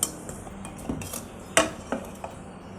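Hot bread slices are placed and flipped in a pan while making shahi tukda; a few light metallic clinks and scrapes of a utensil against the pan sound up close and sparse, with no talk.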